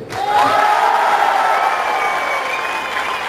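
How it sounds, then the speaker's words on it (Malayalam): A comedy show audience bursts into clapping and cheering, a dense roar of applause with shouts that swells quickly and holds steady, loud and close. "ഇനി നമ്മുടെ മമ്മൂക്ക ഫാൻസ് ഒന്ന് കൈയടിച്ചേ"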